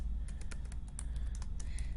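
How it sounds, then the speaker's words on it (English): Computer keyboard typing, footnote text being entered for an online course assignment, with quick irregular clicks and taps close up and no talking. "So that's what I'm typing in the footnote area."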